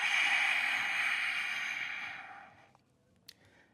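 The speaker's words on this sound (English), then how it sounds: "Breathe deeply. Exhale." A long, deep exhale during a yoga flow, a steady breathy rush close to the mic that fades out over a couple of seconds, followed by a faint click.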